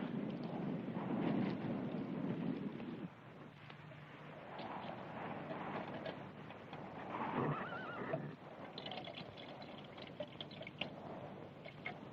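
A horse whinnies loudly near the start amid the clip-clop of hooves on open ground in an American Western setting, with wind noise and faint rustling as the steady hoofbeats carry on.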